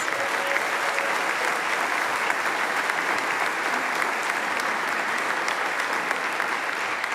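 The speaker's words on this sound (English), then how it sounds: "Let's give them all another round of applause." An audience at a Maine family business awards show applauds the winners, loud, dense clapping continuing without a break and close to the microphone.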